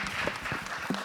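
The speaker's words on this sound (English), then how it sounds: "Big round of applause." Audience applause after a moderator is welcomed onstage at a Dubai Meta Week panel discussion on blockchain, a brief, dense burst of clapping with a few voices mixed in.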